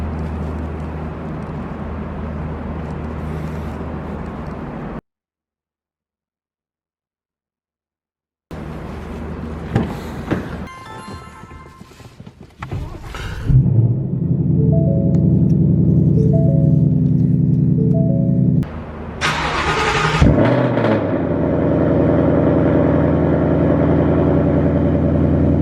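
A Ford Mustang GT engine cranks and fires up from a cold start after a short silence, then settles into a loud, steady idle with a brief rev near the end.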